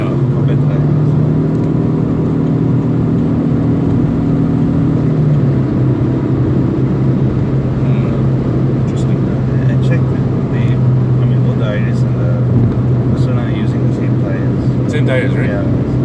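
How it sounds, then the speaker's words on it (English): Cabin of a 2019 Proton Persona on the move: a constant low road and tire roar with steady engine hum. People talk over the noise the whole time. "is there a little bit more road noise in this car?"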